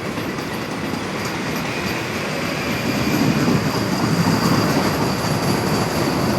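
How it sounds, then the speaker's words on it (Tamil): AC electric suburban train passing on rails near Singaperumal Koil, a loud continuous roar of wheels with a high steady squeal, growing slightly louder midway, close by and with no talk. "பாருங்கள், ஏசி ட்ரெயின் போகுது இல்லைங்களா?"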